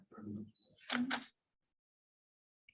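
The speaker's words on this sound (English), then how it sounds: "my shutter speed is going really, really slow" A camera shutter fired at a slow shutter speed gives two crisp mechanical clicks about a quarter second apart, heard close and loud after a brief stretch of talking, then silence.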